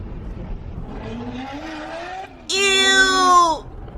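At an outdoor car meet, a car engine revs with a rising, wavering tone that then surges into a loud, high, harmonic-rich scream for about a second before cutting off, with crowd noise underneath.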